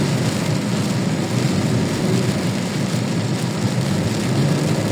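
Heavy downpour drums loudly and steadily on a moving vehicle in Bocaue during the rainy season, a dense, unbroken roar of rain mixed with road and engine rumble.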